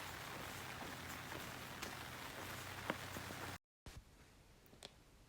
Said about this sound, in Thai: วันนี้ฝนตกนะคะ